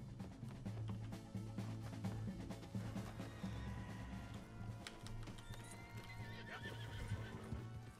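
A horse in Red Dead Redemption 2 gallops with rapid rhythmic hoofbeats and lets out whinnying neighs, fairly quiet overall and continuous.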